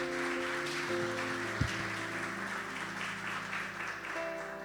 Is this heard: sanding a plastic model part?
no